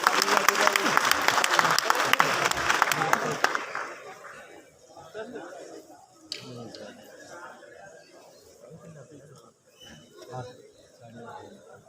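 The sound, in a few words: audience applause welcoming guest on stage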